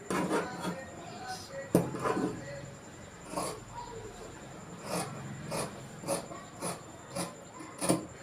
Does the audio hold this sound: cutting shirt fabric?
yes